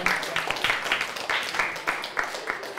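Steady applause from a class of students, many hands clapping together continuously at moderate loudness for a few seconds.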